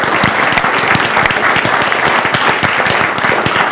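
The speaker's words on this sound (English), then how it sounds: "let's give a round of applause to the panelists" Dense, steady applause from a conference audience thanking a panel at the Oceans 2025 ocean engineering conference, close and full for the whole stretch with no voices over it.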